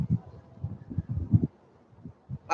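Birds outdoors on a sunny day make soft, low, repeated cooing calls in short groups. The calls are faint and fairly close, with pauses between them.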